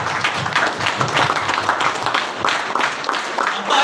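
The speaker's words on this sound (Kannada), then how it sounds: "ಜೋರಾದ ಚಪ್ಪಾಳೆಯೊಂದಿಗೆ." Loud applause from an audience at a business motivational gathering, a dense continuous wash of many hands clapping in a hall, steady throughout with a faint voice underneath.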